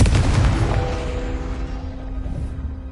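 Confringo explosive spell cast in a video game, a single loud booming blast that rolls off into a long rumbling decay with a faint lingering ring, close and dominant.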